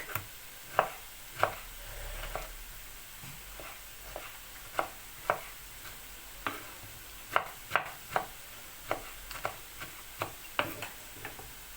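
Peeled tomatoes being cut into cubes with a knife, a close run of crisp, fairly regular taps against a board over quiet kitchen background, with no talking.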